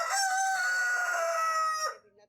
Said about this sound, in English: I do have a rooster.